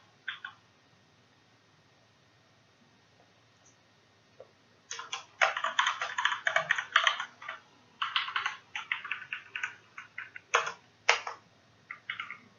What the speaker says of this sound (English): let's type something